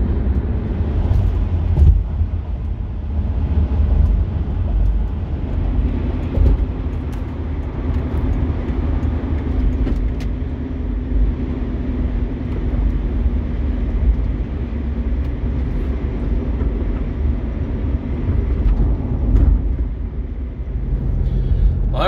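A Jeep Grand Cherokee WJ cruises on the highway at about 60 mph, with a steady low engine and road drone and a faint rising tone for much of the drive.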